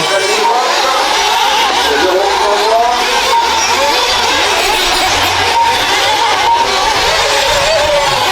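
Nitro rallycross race cars tearing around the Le Pin track during a final, engines roaring continuously and loudly with shifting revs, while a commentator speaks over the din.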